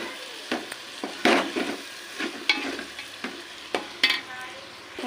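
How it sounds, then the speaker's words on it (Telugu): Small mutton pieces being mixed into vermicelli in a pot, with irregular close scrapes and clinks of stirring over a soft low sizzle. "ఇందులో వేసేసుకోవాలి వేసుకొని చక్కగా కలిపేసుకోవాలి"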